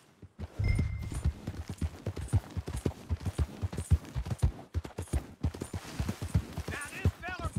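Horse hooves gallop in Red Dead Redemption 2 as a rapid, steady clip-clop rhythm from a filly, close and clear, with a short spoken line over the start.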